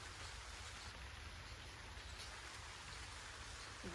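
Light rain falls outdoors with a steady, soft, even hiss of drops that carries on unbroken throughout, with no voices.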